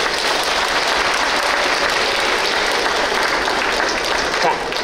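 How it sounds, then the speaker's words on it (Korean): Steady applause from a large audience at a Buddhist dharma talk, a dense even wash of clapping with crowd murmur filling the whole stretch. "나를 온전히 이 자리에 있게 해준 내 가족들에게도 박수 주십시오."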